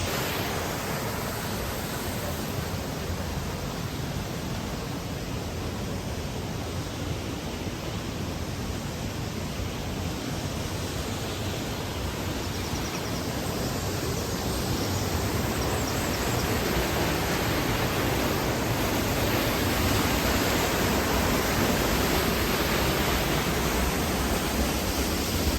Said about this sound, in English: it's quite loud here because of the waterfall